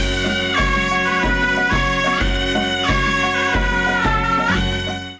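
A steady, pulsing rock groove, with a thumping beat and layered guitars and keys, plays loud and without voices before cutting off at the end.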